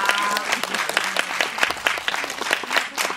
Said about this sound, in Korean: 가시는 동안 박수로 보내드리도록 하겠습니다.